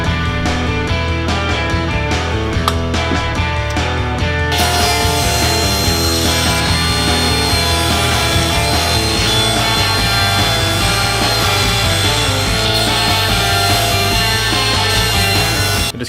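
Oak boards are cut to length on a power saw in a woodshop, a loud sustained whine and rasp of the blade biting through the wood, with the tone shifting as the cut progresses.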